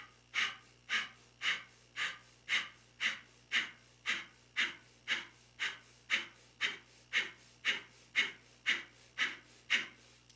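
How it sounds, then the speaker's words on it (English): Breath of fire in a Kundalini yoga session: rapid, rhythmic forceful exhalations through the nose, about two per second, close and even, repeating steadily with no talking. "close down the eyes and begin breath of fire."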